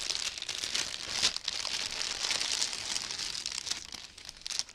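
Someone works open the crinkly plastic bag of a cross-stitch kit, producing a dense, close, unbroken rustling and crackling with a few louder snaps and no talking.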